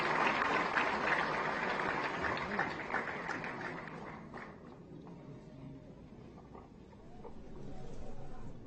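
Audience applause at a government beneficiary event in Lucknow, a dense clatter of many hands that is loud at first, thins out midway and swells again toward the end.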